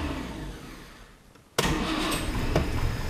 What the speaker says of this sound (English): Starting the car is fairly simple.